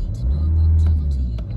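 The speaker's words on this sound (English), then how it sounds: "Get a small rev." A VW Golf engine that will not move in drive gives a short, small rev, a deep steady rumble rising slightly and holding close by with faint clicks over it.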